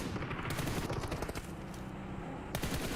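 Dense automatic gunfire in a PUBG Mobile tournament match crackles continuously, loud and close, with rapid bursts overlapping throughout.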